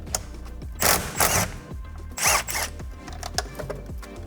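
An impact wrench loosens the steering wheel center bolt on a Honda Fit GD3, firing two short, loud rattling bursts separated by quieter mechanical clicks and handling noises.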